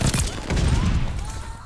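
Rapid burst-fire gun in a first-person shooter match, loud close volleys of shots running almost continuously with heavy low booms underneath.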